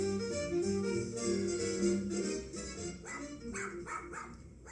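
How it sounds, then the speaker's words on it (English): Happy dog barking as a cue in a radio play of The Thin Man, several short yips and barks near the end over a swelling musical background. "happy bark, the signal of another adventure of the Thin Man"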